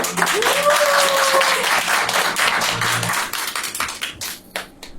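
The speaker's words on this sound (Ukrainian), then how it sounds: "Ваші оплески!" Applause from an audience at a children's acting showcase in a creative studio, a dense burst of clapping that thins out and fades toward the end, with a brief tonal sweep at the start.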